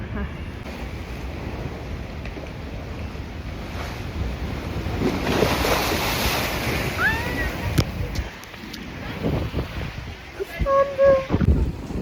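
Sea waves wash against the shore at Beşiktaş, a steady broadband surf with wind noise on the microphone, rising in the middle and continuing to the end, with excited voices talking over it.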